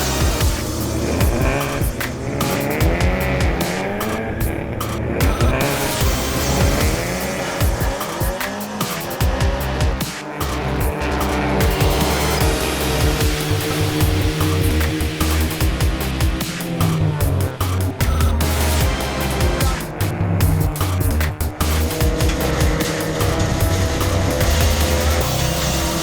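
Race cars of the Volkswagen Vento Cup one-make series, Volkswagen Vento sedans, roar past continuously with loud engines, tire squeal and skidding, dense and close with no pauses.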